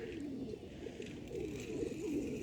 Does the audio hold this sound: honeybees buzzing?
no